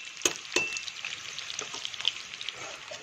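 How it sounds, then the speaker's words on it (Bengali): Potatoes fry in a small amount of oil with a soft steady sizzle, punctuated by a couple of sharp metallic clinks from a utensil against the pan; no voices. "এটা ভাজা হতে থাক।"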